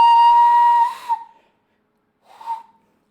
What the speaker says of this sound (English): You just pick up a blade of grass from the ground and you just blow into it.